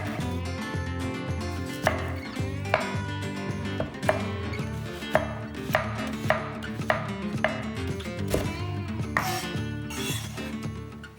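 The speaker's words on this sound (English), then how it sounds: "Chop 1 large onion or 2 small," A knife chops a red onion on a board, with sharp rhythmic strikes about once a second over a steady music bed. Nobody speaks.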